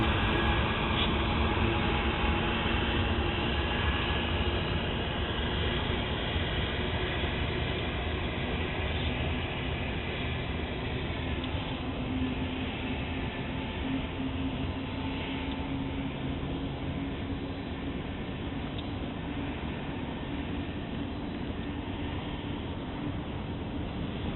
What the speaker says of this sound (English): The helper units that were added at Indio were cut off when the train got the signal to continue its journey to West Colton.